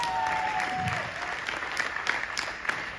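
An audience breaks into steady, close applause at a live show, with scattered louder claps and a faint tone underneath.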